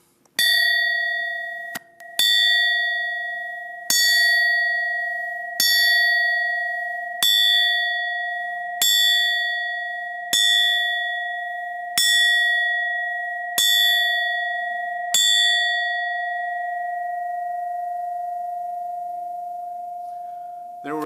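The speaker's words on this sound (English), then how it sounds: "There were some nicer looking bells, veterans who were artists from the start, but mine had a better sound." A single bell struck about nine times at a steady, unhurried pace, each clear metallic strike ringing on and fading before the next, then a long sustained hum dying away at the end.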